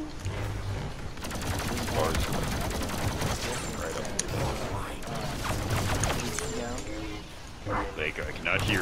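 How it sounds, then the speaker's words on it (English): Dense Lego Star Wars video game battle noise, rapid bursts of blasts, clatter and crashing effects, plays continuously under a person talking over it. "There are very many explosions and lightsaber noises."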